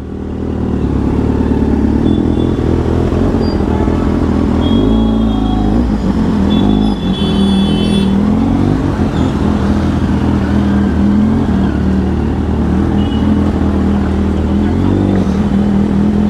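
Cars and motorcycles passing close on a road under construction, a loud continuous engine rumble with revving and rattling clatter throughout, steady and dense with no gaps.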